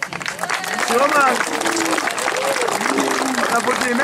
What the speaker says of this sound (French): On peut applaudir là